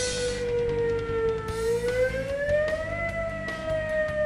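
A civil defense warning siren sounds a long, loud wavering tone that dips and rises slowly in pitch, with faint background rumble beneath it.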